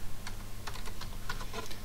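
Typing on a computer keyboard while writing in a Microsoft Word document, a close run of irregular light key clicks heard alone.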